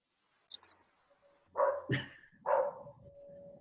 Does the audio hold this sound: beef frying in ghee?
no